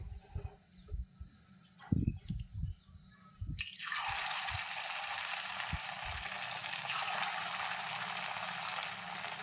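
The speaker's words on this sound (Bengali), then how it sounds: "কড়াইয়ের তেলটা গরম হয়ে এসছে এবার আমি পকোড়াগুলো এক এক করে" Pakoras made from leftover rice are dropped into hot oil in a wok, with a few soft drips and taps before a loud, dense sizzle erupts and continues steadily.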